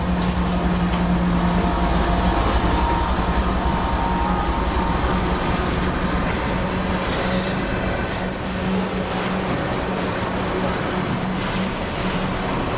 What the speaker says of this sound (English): By the time the mid-train DPU reached us, the train was rolling pretty well and soon cleared the 100-year-old swing bridge going over Chickasaw Creek.